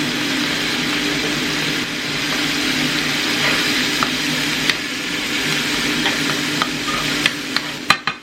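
Taco seasoning is stirred into food frying in a pan, giving a steady sizzle under scraping stir strokes, with a few sharper clinks of the utensil near the end.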